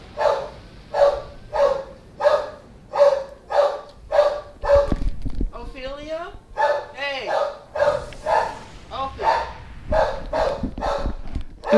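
Dog barking steadily in a close, loud series of regular barks, then a stretch of whining and yelping, with the barking resuming afterward.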